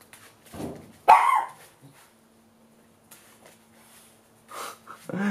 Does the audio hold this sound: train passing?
no